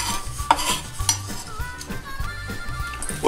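Chopped parsley and onions tossed together in a bowl for lamm kebab, with a run of close, rhythmic scraping and clinking stirs, some utensil taps against the bowl, fairly loud and with no speech.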